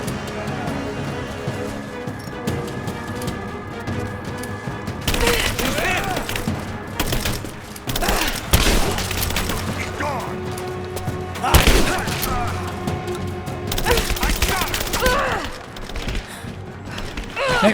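Gunfire in the Rise of the Tomb Raider video game: loud, dense bursts of shots and rattling clatter that come in waves over a continuous mechanical bed, with voices mixed in.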